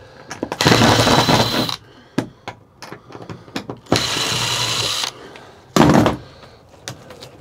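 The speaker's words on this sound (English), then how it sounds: "I think if I take these wood panels off in a couple places, it might pop right out" Tongue-and-groove wood panels being pried off a bed frame: long stretches of loud scraping, rasping friction broken by sharp creaks and knocks, close and busy, with no talk.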